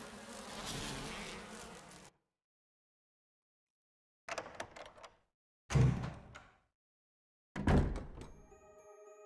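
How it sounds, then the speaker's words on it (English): Bees buzzing in the survival horror game Resident Evil, a dense insect drone that cuts off to silence, followed by several short bursts of thumps and rattles separated by quiet gaps. "the bees are pissing me off"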